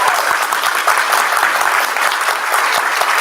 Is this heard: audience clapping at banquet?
yes